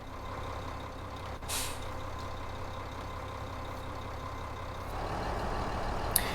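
A lorry in the Farming Simulator 2015 video game, with a steady low engine rumble throughout, a brief hissing air-brake burst early on, and the engine noise swelling louder near the end.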